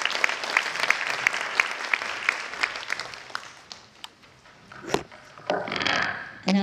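An audience at a 2019 international forum on democratic citizenship education in schools gives a dense round of applause to welcome a primary school principal. The clapping is steady for about three seconds, then thins and fades, followed by scattered clatter and brief noise.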